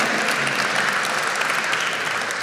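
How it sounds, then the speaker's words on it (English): Steady, dense applause from a sizable crowd fills the clip, loud and continuous without a break. "Give her a round of applause."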